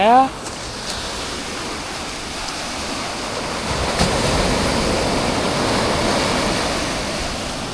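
Ocean waves wash steadily onto a beach at Pondicherry, a broad continuous roar that swells slightly midway, with a brief voice at the very start.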